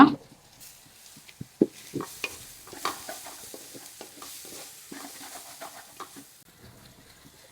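Curry leaves frying in a pan for a crab roast, giving soft sizzling with scraping and stirring clatters at close range and no speech.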